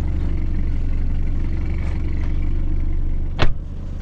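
A 2016 BMW 320i Sport 2.0 with a Stage 2 tune rolls away from a stop, its steady engine drone held close and constant, then a short sharp knock or click near the end.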